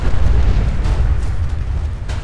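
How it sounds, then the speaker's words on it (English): Robot exploding in the Fallout 4 video game, a loud low rumbling blast that fills the moment and slowly tails off with crackling debris. "Watch out for the explosion!"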